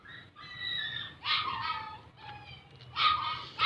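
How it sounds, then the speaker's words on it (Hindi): A small pet dog kept on a goat farm gives several high, yappy barks and whiny yips in short bursts, fairly close, with quiet gaps between them. "ये मेरा छोटा सा कुत्ता है, इसे मैंने पाला हुआ है अपने फार्म के लिए"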